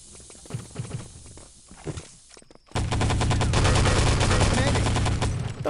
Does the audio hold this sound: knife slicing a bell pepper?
no